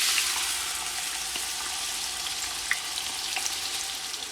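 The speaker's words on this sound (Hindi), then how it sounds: "अब प्याज डालते हैं इसमें" Onions fry and sizzle in oil in a pan while chicken kabsa is being cooked. A steady, hissing sizzle with occasional faint crackles and stirring clicks runs throughout at moderate volume, with no talking.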